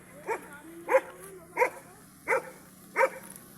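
A dog barks five times at a steady, evenly spaced rhythm, fairly close, with a low hum running underneath.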